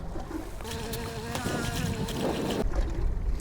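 A big outboard motor on a lake trout fishing guide boat hums steadily throughout, mixed with wind and water noise, growing slightly louder toward the end with no talking.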